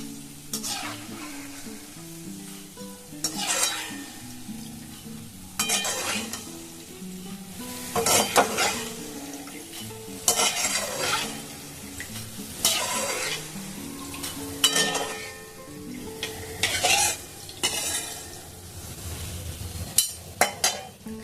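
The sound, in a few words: bonde (gram flour droplets) frying in oil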